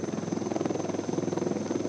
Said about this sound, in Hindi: 15 फीट ऊंचाई है इस लाइट कॉम्बैट हेलीकॉप्टर की